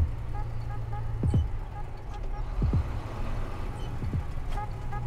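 A truck engine idles and pulls in a low steady rumble while the driver shifts up to sixth gear, with a few short whooshing bursts of air between gears and a person talking quietly over it.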